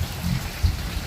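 Steady rain falls in a short, even wash of hissing patter, with a few heavier drops thudding nearby.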